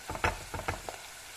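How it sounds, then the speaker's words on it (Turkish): Chunks of meat with onions sautéing in a pan give off soft, intermittent sizzling bursts that fade toward the end. "Kavurmaya devam. kavrulun soğanlı etimizi"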